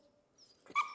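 A single short, high yip from a young female puppy, weak and brief, rising out of a quiet background near the end.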